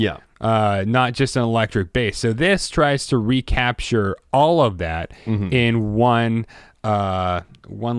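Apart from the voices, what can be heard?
No everyday noises stand out.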